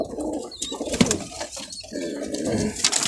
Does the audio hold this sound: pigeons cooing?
yes